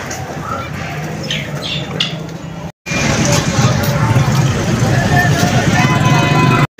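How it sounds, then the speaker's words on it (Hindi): Parrots squawk overhead at a busy roadside in Fatehpur, India, their harsh calls rising over traffic and crowd hubbub. Passing vehicles rumble close by, and the noise cuts out briefly partway through. "ये ऊपर भी तोते हैं"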